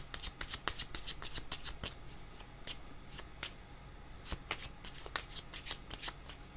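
Tarot cards being shuffled by hand, a rapid riffling patter of crisp card flutters in quick bursts with short pauses, close and clear, with no talking.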